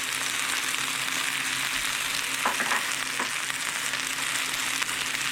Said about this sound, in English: And just stir it around.